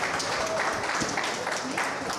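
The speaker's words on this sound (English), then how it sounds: "Give the ACT sisters a big round of applause." A conference audience at a sustainability panel in Cannes gives a brief round of applause for the ACT sisters, a continuous mid-level patter of clapping that holds steady for a couple of seconds.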